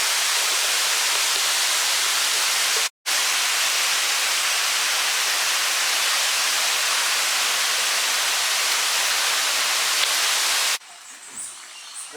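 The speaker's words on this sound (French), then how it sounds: "derrière moi, il y a une petite cascade" A small waterfall in a botanical garden at Deshaies gives a steady, loud hiss of rushing water, briefly cut out once, then dropping away to quieter surroundings near the end.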